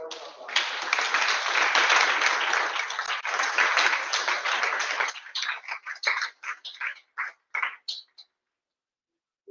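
An audience at an awards ceremony gives dense, sustained applause that thins into scattered individual claps before dying away.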